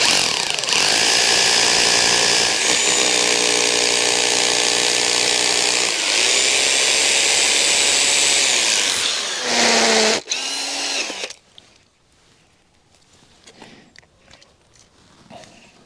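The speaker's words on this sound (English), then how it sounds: "So I've got my steel work here. I'm going to screw it to the wall" A power drill drives screws to fix painted steel gate work to a wall, its motor whining loud and steady for about ten seconds with brief pauses before cutting out, leaving quiet handling noise.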